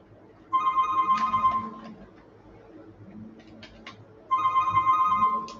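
Two bursts of a warbling electronic phone ringtone sound as an outgoing call rings, each ring lasting about a second and a half, fairly close, with a quiet gap between them and faint background noise.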